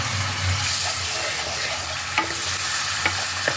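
Spice masala with sugar and a splash of water sizzles steadily in a pan as it is stirred for palak paneer, a constant hiss with a few sharp spoon taps; nobody talks.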